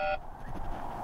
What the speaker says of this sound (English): it sounds like a fire alarm's going off.